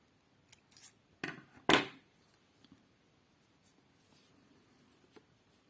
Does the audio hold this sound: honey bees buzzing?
no